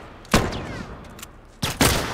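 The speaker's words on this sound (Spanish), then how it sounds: "Voy a bajar el volumen porque se escuchan los tiros a mago." Gunfire from the video game The Last of Us Remastered: two separate bursts of shots, one near the start and a double burst near the end, loud and sharp against a quiet game background.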